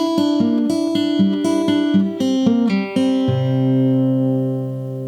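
Guitar in standard tuning picking the intro of a song, quick fingerpicked notes in a rolling pattern that settle into a sustained ringing chord, close and clear with no voices.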